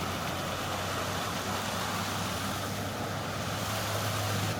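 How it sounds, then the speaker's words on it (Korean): A mountain stream runs steadily between cedar trees at the Boseong Daehan Dawon green tea plantation, giving a continuous broadband rush of water with a low hum beneath it and no voices. "삼나무 사이로 흐르는 물소리가"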